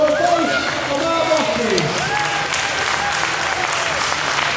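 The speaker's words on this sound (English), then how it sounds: "Can we please have a massive round of applause?" Loud crowd applause fills a boxing venue after a four-round bout, a dense steady wash of clapping with voices and a few shouts mixed in throughout.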